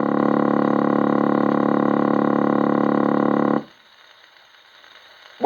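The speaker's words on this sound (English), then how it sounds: "listen for the dialing tone, a low-pitched, continuous purring sound like this." A 1930s GPO automatic telephone dialling tone plays from an old gramophone record, a low, continuous purring hum that holds steady for over three seconds and then cuts off into faint record hiss.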